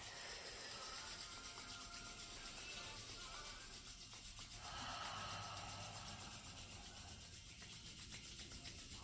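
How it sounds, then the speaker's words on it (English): Hands rubbing briskly together to build warmth, a steady soft dry friction hiss close to the mic, continuous and quiet with no talking. "Okay, guys, so rubbing the hands together."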